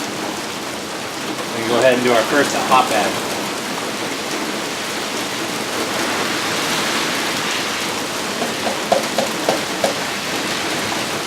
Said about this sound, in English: it does rain and downpour while the sun is shining in Colorado